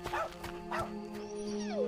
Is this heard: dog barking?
yes